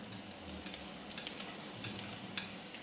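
Chopped ginger frying in hot oil with mustard seeds and fennel in a pan, a steady close sizzle with scraping stirs throughout, no talking.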